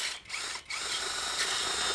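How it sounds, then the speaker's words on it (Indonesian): A cordless Miyota D8216 LXT impact drill bores into thick concrete, a loud, steady grinding hammer that breaks off briefly twice near the start before running on continuously. "Ya ini kan sebenarnya lagi-lagi bukan peruntukannya bor-bor begini untuk beton yang tebal gitu ya."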